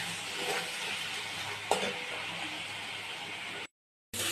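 Chicken with carrots and beans frying in a pan gives a steady close sizzle with stirring scrapes and one brief utensil clack, then cuts out abruptly near the end.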